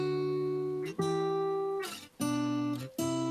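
Unprocessed recorded guitar track, dry and close, playing a few sustained notes and chords, each ringing out briefly before being cut off, with short squeaky string noise between them.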